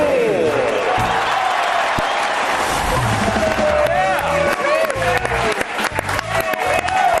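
Studio audience at a television show applauding loudly and steadily, a dense wash of clapping with a voice speaking over it.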